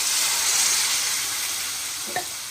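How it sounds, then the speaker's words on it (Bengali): Hot water goes into a pan of frying dhaba-style chicken curry, giving a loud, bright sizzling hiss that fades gradually, with one brief clink near the end and no speech. "অল্প পরিমাণে একটু গরম জল দিয়ে দিচ্ছি"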